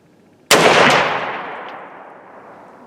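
A single close, loud rifle shot from a scope-mounted SKS on an outdoor range, a sharp crack followed by a long fading echo.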